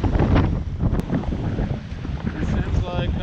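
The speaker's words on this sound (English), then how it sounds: "It's pretty windy" Winter wind buffets the microphone aboard a sailboat in Norway, a rough low rumbling gusty roar, close and loud, with someone speaking over it.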